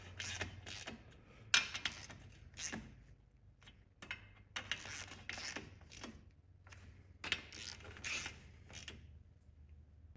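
A wrench creaks and clicks in short bursts while tightening cylinder head nuts on a BMW Airhead motorcycle engine, faint and close, with irregular metallic ratcheting strokes over a low background hum.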